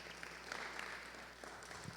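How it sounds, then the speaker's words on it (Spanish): Church congregation applauding during a Spanish-language service, steady dense clapping at moderate distance, sustained through the whole stretch with no talk over it. "Denle un fuerte aplauso al Señor."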